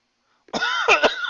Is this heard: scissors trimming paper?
no